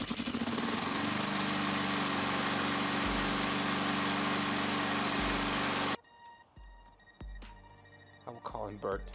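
A Honda lawn mower engine runs loud and steady at close range for about six seconds, then abruptly cuts out, leaving scattered clicks and light handling noises.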